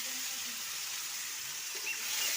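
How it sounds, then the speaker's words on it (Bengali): Turmeric and salt fry in hot oil for a Bengali mustard hilsa dish, giving off a steady, bright sizzle with faint background murmur. "লবণ দিয়ে ভালো করে ওটা ভাজতে হবে। এই যে তেল, গরম তেলটাতে দিয়ে দিলাম।"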